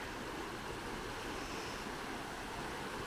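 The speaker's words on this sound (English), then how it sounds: "Nice running water." Running water flows under a lower bridge on a road trip near Adelaide River, heard as a steady, fairly faint rushing wash mixed with some wind, continuous and even with no voices.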